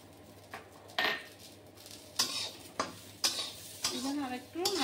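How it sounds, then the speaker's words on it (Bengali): Rice grains are stirred and fried in a pan, made with a rohu fish head, as a spatula scrapes and knocks against the metal in repeated strokes over a faint sizzle, with a voice briefly heard near the end. "এবার হালকা হাতে চালগুলি লাল লাল করে একটু ভেজে নেব।"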